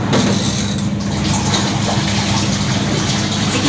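A Von twin tub washing machine runs a short rinse cycle on already-clean clothes. It gives a steady, loud churning and gushing water noise that carries on unbroken with no voices.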